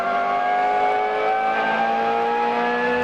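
Onboard a BMW M3 GTR GT-class race car in the 2001 American Le Mans Series, the engine holds a loud, steady high-pitched whine with rich harmonics, close and continuous without gear changes.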